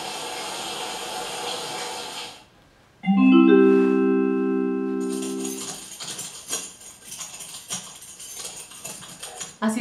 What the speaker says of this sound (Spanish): Así suena cuando llaves. Manipulan las llaves.